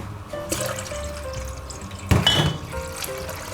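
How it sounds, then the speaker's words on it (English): Prawns for a Thai green curry are rinsed in a kitchen sink, with a steady run of water, sloshing and brief trickles, plus a louder splash midway, close and without talk. "we're gonna rinse this out"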